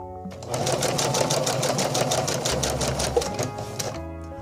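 A sewing machine stitches the hem of a satin formal dress skirt, a rapid even mechanical chatter running steadily for a few seconds after a short start.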